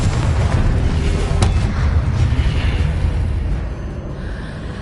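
Booming explosive blasts from the Confringo spell in Hogwarts Legacy, loud and rumbling with a sharp crack partway through, fading into lower rumble toward the end.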